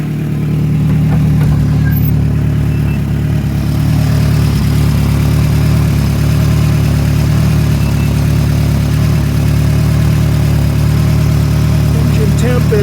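The rear engine of a 1992 VW Westphalia van idles while parked, giving a steady, low, even rumble that holds nearly constant throughout with no revving.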